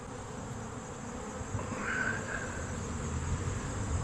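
Caucasian honey bees buzzing around an opened hive during an inspection, a steady dense hum that grows slightly louder partway through, with no talking.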